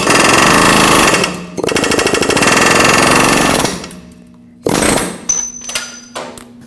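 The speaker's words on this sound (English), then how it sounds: "I'm going to take an air chisel and try to drive it out" An air chisel hammers at a steering knuckle on a Nissan Frontier in loud, rapid pneumatic bursts, one long run, then a pause and shorter stuttering blasts with hissing air between them.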